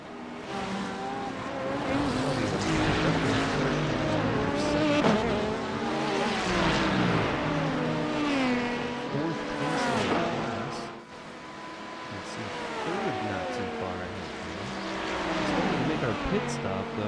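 LMP2 prototype race car engines roar through an iRacing IMSA race while dicing with a Porsche GT3. Revs rise and fall in continuous high-pitched engine notes through gear changes, with a commentator talking over the top throughout.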